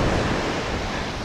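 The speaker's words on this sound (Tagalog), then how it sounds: "Ang problema lang talaga, sobrang lalaki ng alon, no?" Large ocean waves break and surge as a steady, loud roar of surf with wind rushing over the microphone, filling the whole moment without any voices.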